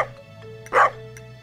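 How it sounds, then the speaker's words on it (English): Dog barking in the video game Stardew Valley on a farm, a single short bark amid quiet game background music, no speech. "Do I see the dog here?"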